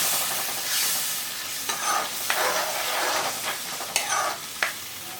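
Mung beans cooking in oil in a pan over medium heat while being stirred, with a steady sizzle and several sharp scraping strokes of the spoon against the pan; no voices.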